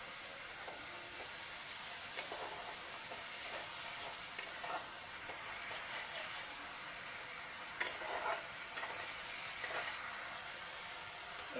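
Ground spices and turmeric fry and are stirred in a pan for a puffed-rice curry, a soft steady sizzle with occasional scraping clicks of a spoon, fairly quiet and without speech.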